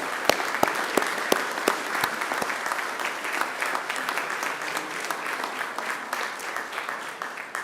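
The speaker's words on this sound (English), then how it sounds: "give yourselves a huge round of applause" Graduates applaud themselves at a Macquarie University graduation ceremony: dense, sustained clapping from a large crowd filling a hall, loud and even throughout, with a few sharp nearby claps standing out early.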